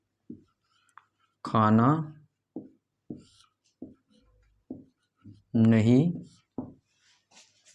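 A pen writes an example sentence on a board in short scratchy strokes and taps, close and clear, with someone speaking between the strokes.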